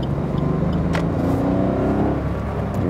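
Suzuki Baleno 2017 with its small 1.0-litre Boosterjet turbo three-cylinder engine, heard from inside while driving: a steady, continuous engine drone and road hum with a brief rise in revs, no talk.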